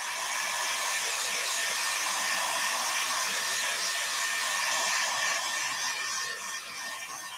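A hair dryer blows steadily and loudly, drying wax on a composition notebook page, a constant close whoosh that dips slightly near the end.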